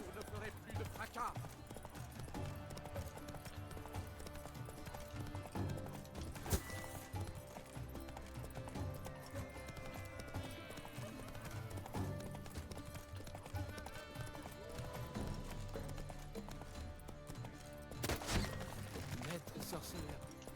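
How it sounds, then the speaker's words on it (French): Horse hooves galloping in The Witcher 3 video game, a steady clip-clop drumming throughout amid busy game music and ambient sound, with a brief whinny-like burst near the end. "Ses sabots martèlent le sol ici-bas."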